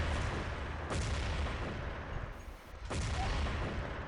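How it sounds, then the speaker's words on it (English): Grenade blasts and rapid gunfire from a competitive first-person shooter tournament match form a loud, dense, near-continuous barrage of bursts, with a brief dip in the middle before the firing resumes. "Take a look at Mauro here, who's getting pretty aggressive with those early nades"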